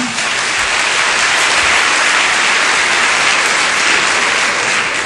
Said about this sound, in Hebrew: בואו נמחא להם כפיים לכולם